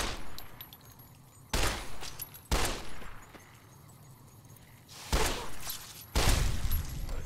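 Pistol shots fired in the video game Fallout New Vegas, four loud sharp reports spaced irregularly over a quiet game ambience, with no talk.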